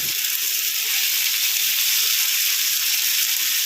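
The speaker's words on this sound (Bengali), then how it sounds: "ফ্লেমটা একটু কমিয়ে দিয়ে পেঁয়াজটা ভেজে নিচ্ছি একটু নরম করে।" Chopped onions fry in a pan with a loud, constant sizzle that stays close and unbroken throughout.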